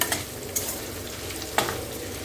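Paneer pieces fry in hot oil with a continuous close sizzle, marked by a few sharp crackles and pops.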